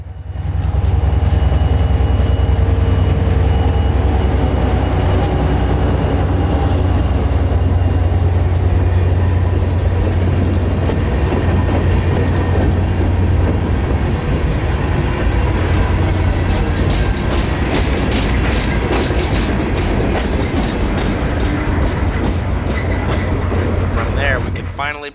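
Heavy CSX freight train 0719 rolling past close by at a new signal cantilever in South Lakeland, Central Florida, a steady loud rumble of diesel locomotives and wagons with rhythmic wheel clatter throughout, fading slightly at the end.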